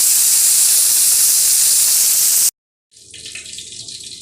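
Red mullet on skewers frying in hot oil in a pan gives a loud, steady broadband sizzle, then a brief silence, then a quieter hissing sizzle as more fish go into the oil.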